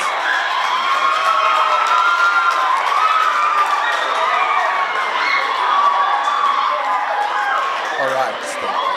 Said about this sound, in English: We may give everyone a round of applause.